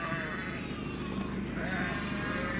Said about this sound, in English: Few lambs about, which is good.